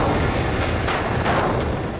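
A volcanic eruption on the Greek island of Santorini is rendered as a deep, continuous rumbling roar that fills the whole stretch, with a few heavier booming bursts rising out of it and no voices.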